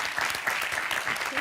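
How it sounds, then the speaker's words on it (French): Applause from a television game show audience, a steady dense patter of clapping hands that carries through the whole moment. "On applaudit bien fort Thierry et Alison, s'il vous plaît."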